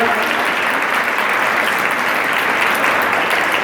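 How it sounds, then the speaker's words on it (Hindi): Applause from the audience at an alumni and parents meeting hall, a dense steady wash of many clapping hands, loud and even throughout with no speech over it. "एक बार तालियां।"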